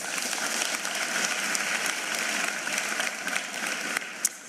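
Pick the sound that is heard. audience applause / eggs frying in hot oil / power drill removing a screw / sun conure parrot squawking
audience applause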